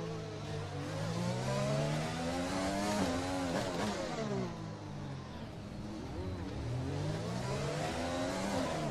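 Formula 1 race car engine in the F1 2020 video game at Monaco, a continuous high-pitched whine rising and falling steadily through gear changes, loud and close, with brief dips and climbs in revs.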